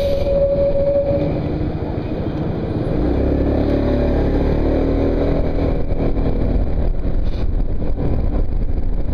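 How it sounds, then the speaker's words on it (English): A scooter ridden through town in Colchester sends up a loud, steady engine drone mixed with heavy wind rush, continuous from start to finish, with no talking. "I'm on a scooter."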